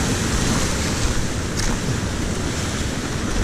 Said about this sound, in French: J'attends qu'il y ait la grosse vague qui arrive